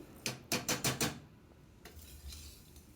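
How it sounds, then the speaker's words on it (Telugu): A spoon scrapes and clinks against a pan while vermicelli is stirred and fried, with a quick run of several taps followed by softer, fainter scraping. "ఇలా మంచి కలర్ వచ్చేలాగా మధ్య మధ్యలో కలుపుకుంటూ ఫ్రై చేసుకుంటూ ఉండాలి."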